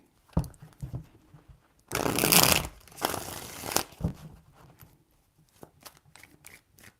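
Tarot cards shuffled by hand in a few separate bursts, a loud riffling rush in the middle flanked by softer crinkling handling and small taps, close and alone.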